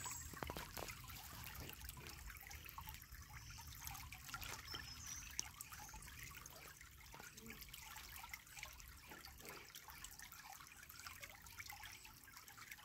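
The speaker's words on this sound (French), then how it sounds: "Permettez-vous d'accueillir les bruits environnants, les bruits de la rivière, pour vous apaiser peut-être." River water flowing steadily, a continuous broadband rush with trickling detail, moderately distant and even throughout, with no voices.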